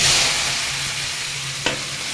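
Potatoes drop into hot oil seasoned with panch phoron, giving a steady broadband sizzle close by with a brief louder crackle near the end, and no voices.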